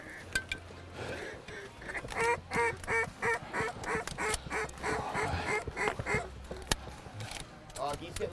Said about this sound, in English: just ducks pouring in here